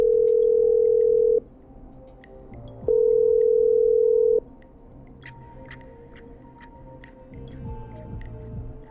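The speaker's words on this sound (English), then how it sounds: "I'm dialing. One moment." In the video game Killer Frequency, a telephone line gives two long, loud ringback-style tones separated by a pause. Faint clicks and quiet background sounds follow.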